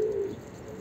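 Pigeon cooing, a single short low coo near the start that fades, then quiet background.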